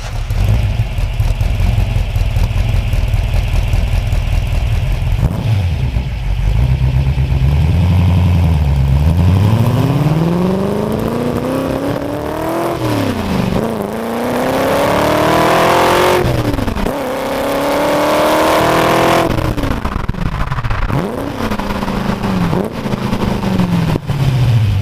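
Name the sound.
1966 Ford GT40 engine revving, four Weber carburetors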